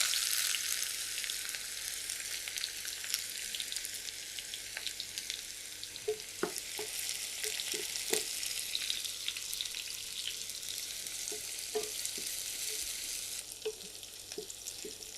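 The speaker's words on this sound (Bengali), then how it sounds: "পেঁয়াজটা ভাজা হয়ে গেছে, আর এর থেকে বেশি আর ভাজবো না।" A steady, bright sizzle of onions frying in oil, with occasional stirring clicks and scrapes of a utensil against the pan throughout.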